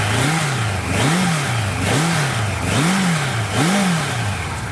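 A 1983 Kawasaki KZ1100 Spectre motorcycle engine, sitting in neutral, revs up and falls back five times in a steady rhythm, close and loud with no talking.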